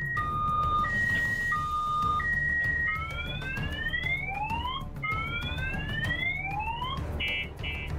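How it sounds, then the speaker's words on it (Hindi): Several car alarms wail and warble at once after a missile strike in a Ukrainian residential area, rising electronic sweeps and steady tones repeating over a dense rumble of background noise. "तेज धमाके की वजह से कई गाड़ियों के सायरन बजने लगे।"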